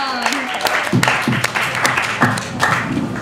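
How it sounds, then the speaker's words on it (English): A camp meeting audience gives a round of applause at a staff skit, with scattered clapping mixed with voices and a lively speaking voice over the crowd. "Everyone give a round of applause for Prunella."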